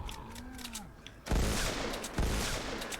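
Yeoman sniper rifle in Fortnite Save the World, video game: two heavy, booming shots about a second apart, each ringing out after a short quiet lead-in with faint game sounds.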